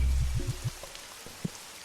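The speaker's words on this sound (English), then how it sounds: "at least I picked the night where it's raining to do this, so I get the atmospheric sounds." Rain ambience at night in the video game TCG Card Shop Simulator, with a series of soft low patters and drips that thin out over roughly two seconds, quiet and steady without any voices.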